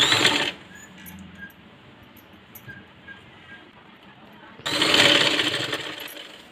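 A sewing machine stitches a princess-cut blouse, running loud and close in a short whirring burst, then going quiet for several seconds before a second whirring run starts.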